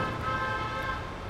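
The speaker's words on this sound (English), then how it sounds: "We're getting honked at right now." A car horn sounds a steady, sustained honk lasting about a second at cyclists in a blocked city bike lane, over continuous roadway traffic noise.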